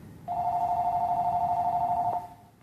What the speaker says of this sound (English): The phone would start ringing.